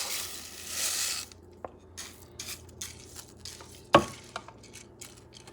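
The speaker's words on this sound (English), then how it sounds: "Going to add the rice." Dry rice tipped into a pan for squid ink rice gives a short hiss of pouring grains, then quiet scattered scrapes and one sharp clack against the pan.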